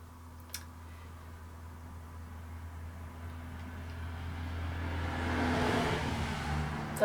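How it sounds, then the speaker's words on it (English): A single car passes outside an abandoned house, its engine and tyre noise swelling gradually from faint to fairly loud near the end, with a steady low hum underneath and no talking. "That was a car."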